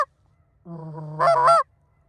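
A goose honks once, a drawn-out nasal call that rises into a harsher squawk, alone against silence.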